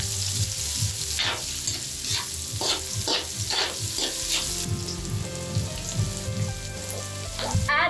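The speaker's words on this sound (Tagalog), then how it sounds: "Next, add the carrots, then beans," Carrots and beans sizzle steadily in a hot pan for pancit bihon guisado. Repeated scraping stir strokes sound close over the continuous frying hiss.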